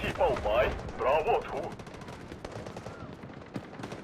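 A flamethrower firing in the Delta Force mobile shooter game, a rapid crackling burst of repeated shots with loud game sounds early, while someone talks over it throughout.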